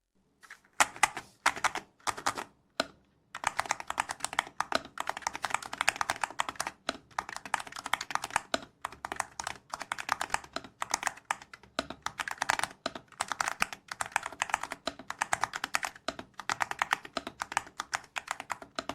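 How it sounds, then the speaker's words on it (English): Rapid clacky typing on a mechanical keyboard with Sun God switches, close and crisp, with a brief pause early on before a steady stream of keystrokes. "Paired with the Sun God switch typing sound, you can also listen to it together."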